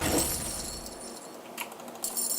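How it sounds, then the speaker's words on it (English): Glass being dumped in a video game shatters in one loud crash at the start, followed by a few lighter tinkling clinks of breaking glass. "Dump all the glass."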